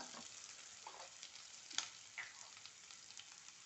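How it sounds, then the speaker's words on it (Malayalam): Onions sauté in a pan while being stirred, a faint, soft sizzling hiss with a few quiet scrapes and a single sharp tap, heard alone at low volume. "നന്നായി ഇളക്കുക നന്നായി ഉള്ളിയൊക്കെ മൂത്ത് വരുന്നവർക്ക്"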